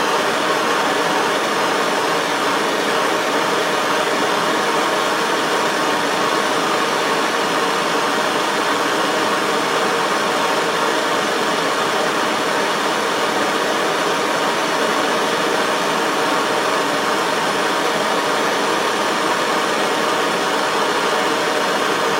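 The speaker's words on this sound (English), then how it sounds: "got the torch turned on here, and here's a piece of metal here" A gas torch burns steadily close by, heating a piece of metal to relieve stress until it glows reddish, a broad even roar that holds unchanged and alone throughout.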